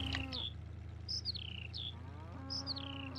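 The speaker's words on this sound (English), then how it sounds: "I can hear them mooing and doing stuff." Cows low repeatedly in Farming Simulator 19 on the Wola Brudnowska farm map, long drawn-out moos rising and falling over a steady low hum, with a few high bird-like chirps mixed in.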